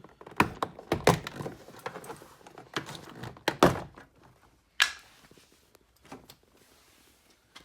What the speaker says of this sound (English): start prying at the bottom of the door card